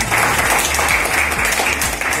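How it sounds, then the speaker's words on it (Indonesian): Steady audience applause during a training event for assessors, a roomful of people clapping continuously at an even, fairly loud level. "Jadi tepuk tangan untuk Pak Hari."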